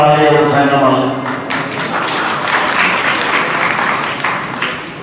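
Dense, loud applause from a political rally crowd fills the whole stretch, steady and sustained, with a voice briefly audible over it at the start.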